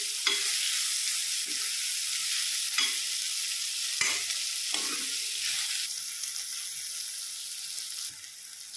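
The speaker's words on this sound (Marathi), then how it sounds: "तेलामध्ये आपल्याला छान असे कारले भाजून घ्यायचे आहे" Bitter gourd (karela) sizzling steadily in hot oil in a pan, with occasional scraping stirs of a spoon, close and continuous.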